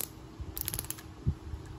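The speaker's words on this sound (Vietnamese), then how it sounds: "Đây là tiếng lưỡi gà của máy, thì mọi người có thể xoay qua" A Daiwa Millionmax fishing reel's ratchet clicker gives off a few faint, close mechanical clicks as the spool turns, irregular and soft against quiet background hiss.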